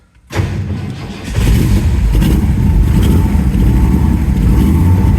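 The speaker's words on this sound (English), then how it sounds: "So this is a cold start. So let's see if we can't get it started." A cold 1969 Ford Mustang Fastback engine cranks and catches abruptly after a moment of quiet, then climbs into a loud, rough, sustained run as it revs up.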